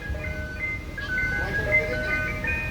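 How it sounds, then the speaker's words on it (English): An ice cream truck arriving at a child's third birthday party plays its tinkling jingle melody, clear and fairly close, while people talk excitedly over it. "The ice cream truck!"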